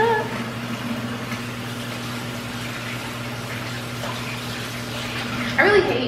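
Hands washed and scrubbed under a running tap, a steady broadband water rush with a low hum beneath, lasting throughout, with a brief louder splash near the end.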